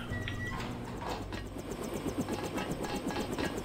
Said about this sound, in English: the comforting sound of helicopter blades swishing